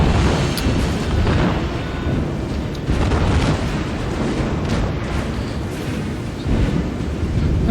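Heavy naval guns fire in World of Warships aboard the battleship South Carolina, with loud, dense booming salvos and explosions rolling continuously through the passage and no voices on top.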